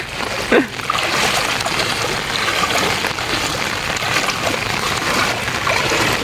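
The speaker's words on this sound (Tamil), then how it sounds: "குளம் நிறைஞ்சி அங்கேருந்து ஓடி வர தண்ணி அவ்வளோ வேகமாக வருது" Floodwater overflowing from a pond roars steadily nearby, a broad continuous wash with a brief splash near the start.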